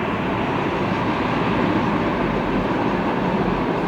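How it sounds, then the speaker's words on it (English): CSX freight train hauling orange coal cars rolls past, a steady broadband rumble and rail roar holding evenly throughout with no voices. "A couple of cool orange CSX coal cars."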